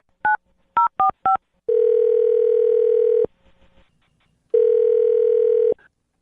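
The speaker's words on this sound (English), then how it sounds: "I'll dial his phone number right now." A phone number is dialed with four quick touch-tone beeps, followed by two long, loud ringback tones separated by a short pause.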